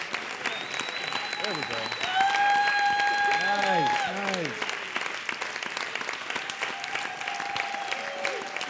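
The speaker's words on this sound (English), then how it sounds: "Keep clapping. Keep it up. Keep clapping." A live show audience in downtown Los Angeles claps steadily, with tonal musical or vocal lines and whooping sweeps over it, while a host speaks briefly through the clapping.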